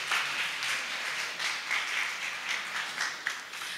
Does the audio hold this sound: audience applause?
yes